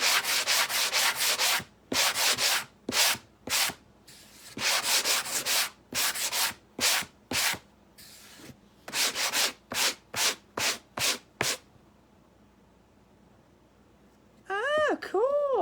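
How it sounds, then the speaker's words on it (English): Wood, the planter or surfboard, is sanded by hand in short, close, rhythmic rubbing strokes that come in bursts with brief pauses, followed by a quiet stretch at the end. "I'm going to sand this other side."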